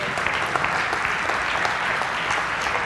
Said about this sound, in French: On les applaudit ensemble.